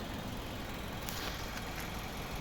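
A 2012 Nissan Juke's 1.6-litre turbo engine idles steadily, a low continuous rumble with a faint high whine, no voices.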